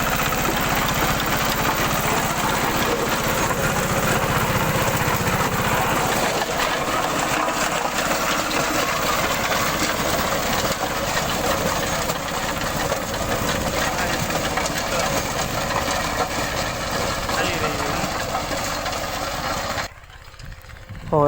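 A Massey Ferguson 5118 tractor runs in a field pulling a 3.5-foot cutter in fourth gear, its engine chugging loudly and steadily with a rhythmic knock, then briefly drops away near the end.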